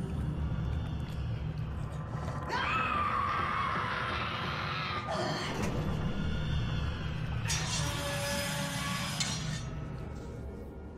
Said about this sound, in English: After that incredibly eerie scream, we jump ahead to the first plasmid.